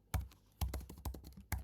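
Keystrokes on a computer keyboard, a few spaced taps and short bursts of typing, close and fairly quiet with no talking.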